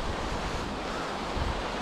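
Mountain river flowing beside a winter trail toward the Anayet lakes in the Aragonese Pyrenees, a dense constant rushing roar of water, close and steady with no breaks or voices.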